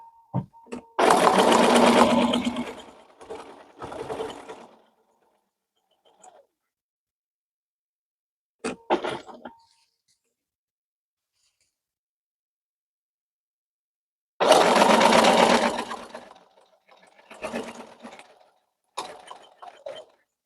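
A sewing machine stitching fall quilt appliqué in short close bursts, two longer runs and a few single stitches, with silent pauses for pivoting between them.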